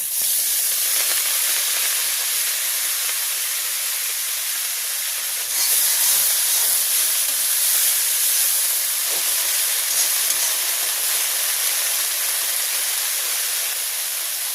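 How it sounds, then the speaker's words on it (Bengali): Red amaranth greens frying in hot oil with radhuni spice in a Bengali village kitchen, a steady loud hiss and sizzle that swells slightly midway and carries on without a break. "আমি এখন লাল শাকটা ভাজি করব, দিয়ে দিচ্ছি রাঁধুনি ফোড়ন, আর একটু তেল দিয়ে দিচ্ছি।"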